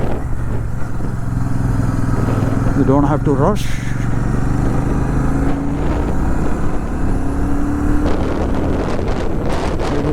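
Royal Enfield Shotgun 650 motorcycle on a test ride through curves, its steady engine drone running throughout with heavy wind rush, while the rider talks over it.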